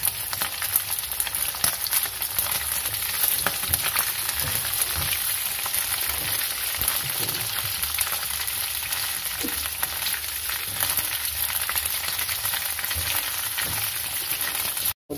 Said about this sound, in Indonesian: Sekarang terinya udah digoreng.